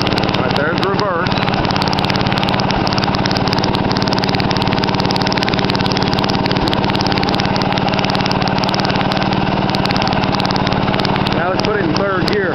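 A homemade mini dozer engine runs steadily in gear, a loud, continuous mid-pitched chugging drone throughout, with someone talking over it.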